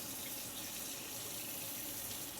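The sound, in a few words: tap water running over boiled eggs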